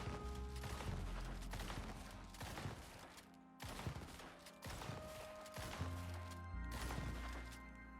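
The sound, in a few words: gunfire emptying a whole clip in video game Icarus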